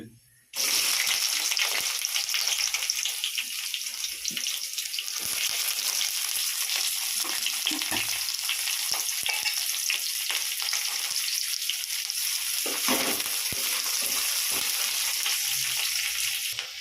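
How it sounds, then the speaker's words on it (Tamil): Onions dropped into hot oil in a pan, bursting into a loud, continuous close sizzle that holds steady throughout, with occasional faint stirring noises. "இந்த வெங்காயம் போடுறோம்ப்பா"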